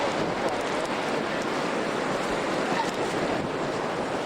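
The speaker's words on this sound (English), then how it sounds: "Wind is blowing a good 30-40 miles an hour." Strong wind of about 30-40 mph roars during a sleeting December 1992 blizzard, a loud, steady, dense rush buffeting the microphone without a break.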